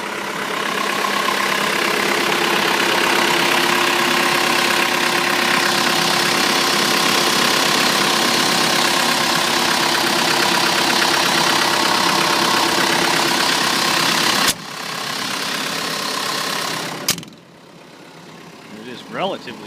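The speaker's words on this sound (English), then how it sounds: "And it is currently on low idle." A MultiQuip 75 kVA, 45 kW diesel generator idles at low speed, a steady loud mechanical drone with a constant hum that holds for about fifteen seconds before cutting off abruptly, followed by brief quieter handling noises.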